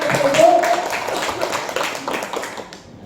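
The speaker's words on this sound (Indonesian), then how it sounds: "Tepuk tangan untuk kita semua" Participants in a teacher-training session give a short round of applause that starts strongly and thins out over a few seconds, with some background voices and scattered claps fading at the end.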